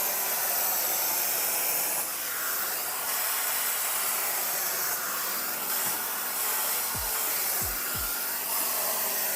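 A Neakasa Magic 1 portable vacuum garment steamer works over a shirt, giving a steady close hiss of steam and suction that runs the whole time, with a few soft low thumps near the end.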